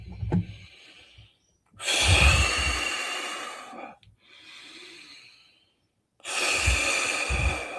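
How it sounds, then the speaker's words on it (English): Deep, slow breaths taken close to the microphone: two long, loud, rushing breaths with a softer one between them, set apart by short silences. "Let me take a few breaths"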